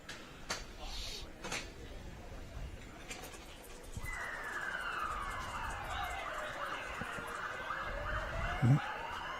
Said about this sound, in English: ambulance has just left the hospital